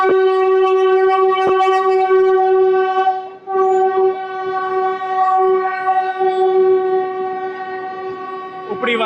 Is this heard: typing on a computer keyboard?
no